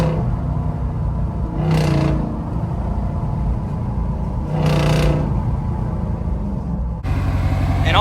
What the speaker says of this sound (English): Even the exhaust tone is different.